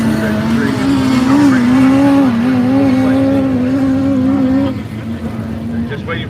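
A race car on a circuit holds a steady, loud engine note with a rising and falling pitch for several seconds before it drops off and fades, with a commentator's voice over it.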